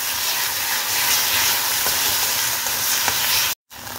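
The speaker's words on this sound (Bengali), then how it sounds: "জিঞ্জারের কাঁচা গন্ধটা যতক্ষণ না যাচ্ছে না একটুখানি ফ্রাই করে নেব" Ginger paste sizzles in a hot pan with a steady, loud crackling hiss, continuous and close, broken by a brief moment of silence near the end.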